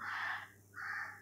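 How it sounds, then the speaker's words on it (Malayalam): A crow caws twice outdoors, two harsh, nasal calls separated by a short pause, fairly faint and unaccompanied by talk. "കാക്ക ഇവിടെ കരയുന്നുണ്ട് കേട്ടോ."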